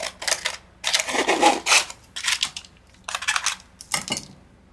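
A paper envelope is trimmed by hand in short bursts of crisp cutting and rustling, close and fairly loud, with brief pauses between strokes.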